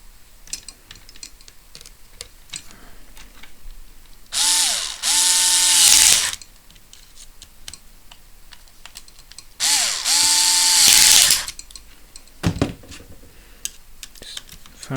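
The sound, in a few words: tightening screws on Tamiya Lunchbox RC car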